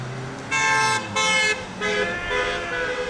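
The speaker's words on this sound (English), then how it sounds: "You can hear cars bonking their horns in support of what the Tea Party, Long Island Tea Partiers are doing here" Passing cars honk in support of a roadside Long Island Tea Party protest, giving two loud sustained blasts followed by a softer, longer honk nearby.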